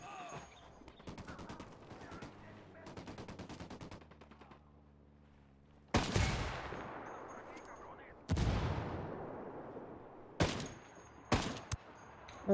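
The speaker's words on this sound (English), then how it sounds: "Opening fire on these fuckers." Heavy gunfire in the shooter game Ghost Recon: Wildlands: dense automatic bursts and rapid rattling volleys, then several loud, sharp blasts with long decaying echoes, all close and without talk.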